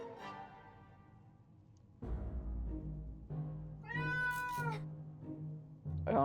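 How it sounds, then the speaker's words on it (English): Repeated cat meows from the video game 60 Seconds, a clear tonal meow over low game ambience and background music, fairly close and prominent in the middle of the clip. "This is my favorite cat."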